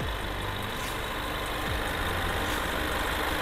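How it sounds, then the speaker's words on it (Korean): A Ford Mustang convertible's engine idles steadily with the engine bay open, a constant low rumble and hum that stays even throughout, with no talking. "엔진 소리 일정하네요."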